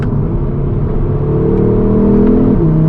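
A 2022 Audi RS3 with a 400 bhp engine drives on the road under a steady, loud mid-pitched hum that builds slightly, with a gear change or rev shift near the end.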